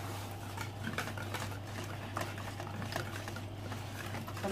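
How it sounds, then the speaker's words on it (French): A spoon stirs a surimi and lardon tart filling in a bowl, giving soft, close scraping and clinking against the sides in a quiet, steady rhythm with no voices. "Et je remue."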